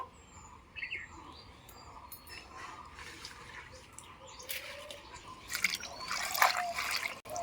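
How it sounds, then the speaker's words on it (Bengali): Bunches of red amaranth (lal shak) greens are washed in water, giving soft dripping and splashing that grows busier toward the end, with faint bird calls in the background. "শাকগুলো প্রথমে ভালো করে জলের মধ্যে ধুয়ে নেব"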